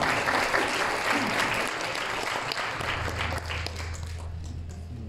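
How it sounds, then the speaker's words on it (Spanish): An audience at an awards event breaks into sustained applause, dense and loud at the start and easing slightly, while a low hum rises under the clapping in the second half. "Absolutamente sí, un aplauso"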